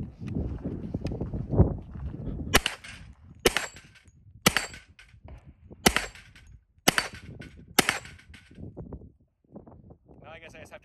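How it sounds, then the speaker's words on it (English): A 10mm Hi Point bullpup carbine fires about six sharp, loud shots at targets on an outdoor range, spaced roughly a second apart, after a stretch of low rustling and handling noise. "I got 10 more rounds in here, got 6 more targets, blast through them and see how it does."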